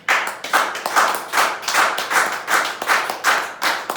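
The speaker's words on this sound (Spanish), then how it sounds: "Si lo va a aplaudir, apláudalo." A church congregation claps along together in a steady rhythmic beat, loud, close and roughly twice per second, with bursts of hands landing in unison and no talking over it.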